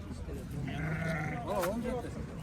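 Sheep and goats bleat at a livestock market, a few wavering calls rising above steady crowd noise and nearby talk.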